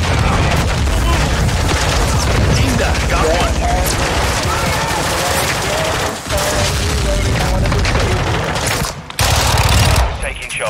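Dense automatic gunfire fills a Call of Duty Modern Warfare II multiplayer match, with continuous loud volleys and booms, brief lulls near the end, and a player talking over the shooting.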